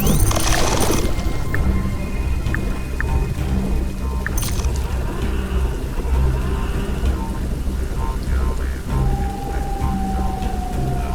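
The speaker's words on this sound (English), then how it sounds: "The rain is pouring down." Heavy rain pours down in The Riftbreaker, a dense continuous roar of rainfall with a loud crash at the start and scattered game tones and a rising whine over the steady downpour.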